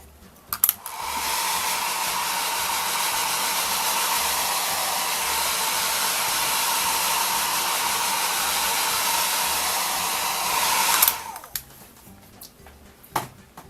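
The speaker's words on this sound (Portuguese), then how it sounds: "Vou terminar de secar aqui só para vocês verem pronto." A hair dryer blows over watercolor paint on Montval paper, a loud, steady whoosh running about ten seconds after a click on, then cutting off with a few small handling knocks and no voices.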